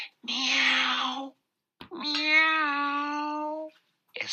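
A person imitates a cat's meow softly in a drawn-out, whiny voice, giving two long mewing calls separated by a brief pause, with the start of a third at the end.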